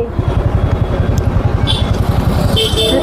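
Motorcycle engine running steadily while riding at night through Durga Puja pandal crowds, a continuous close, loud pulsing drone throughout with faint clatter.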